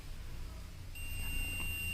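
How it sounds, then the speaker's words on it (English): A multimeter in continuity mode gives a steady electronic beep when its probes touch a wire being checked for a short. The tone starts partway through and holds to the end over a low background hum. "you will hear beep, so it means the wire is not shorted"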